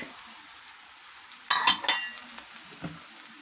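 Onion, eggplant and pepper fry in a pan with a faint, steady sizzle, broken halfway by a sharp burst of clattering as ingredients hit the hot oil, followed by a few softer knocks.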